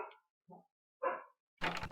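A dog in the Titanic adventure video game gives a few short, quiet barks with gaps between them, followed by a brief louder burst.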